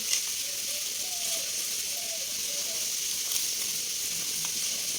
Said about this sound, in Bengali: এই যে দেখো ফোড়ন দিয়ে দিয়েছি কালো জিরে